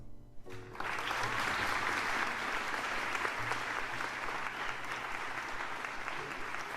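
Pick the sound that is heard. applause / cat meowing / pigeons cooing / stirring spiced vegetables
applause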